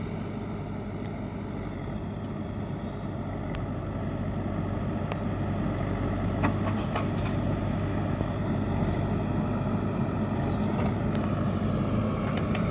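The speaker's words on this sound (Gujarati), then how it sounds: "ધમભાઈ ટ્રેક્ટર પર બેઠા છે" A tractor or JCB backhoe engine drones steadily throughout at a moderate distance, a continuous low rumble with faint clicks and outdoor background, no talk.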